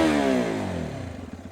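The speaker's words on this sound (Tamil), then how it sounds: "ஆக்சிலரேட் பண்ணி பார்ப்போம்." A 2025 Hero Xpulse 210 motorcycle revving up close as its throttle is opened, with a single smooth rising engine note that sags back toward a lumpy idle, heard alone.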